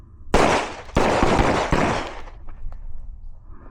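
Handgun shots fired at a target during a firearms training drill, three loud close reports in quick succession, each with a long ringing outdoor decay, followed by quieter handling clicks.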